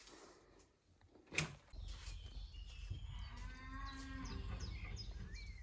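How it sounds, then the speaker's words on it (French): A cow moos nearby in a long, low, drawn-out call over quiet outdoor surroundings, with a sharp knock just before it. "il y a une vache pas loin"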